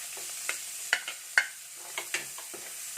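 Onion frying in coconut oil in a pan for a Kerala-style masala curry, a soft sizzling bed with scattered scraping stir strokes and light clicks of the spoon, close and fairly quiet.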